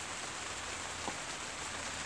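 Rain falls steadily on a vegetable garden planted with chard and peas, a constant soft hiss with no voices.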